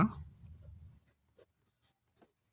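Pen or pencil writing out a fourth-grade maths answer on paper, a short scratchy stroke at the start, then a few faint sparse marks with quiet gaps.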